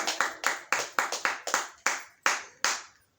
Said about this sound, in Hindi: एक बार जोरदार ताली बजाया जाए